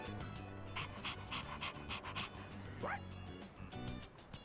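A dog in the Persona 3 Reload video game pants in quick, rhythmic breaths, close and fairly soft, with a brief whimpering yelp near the middle.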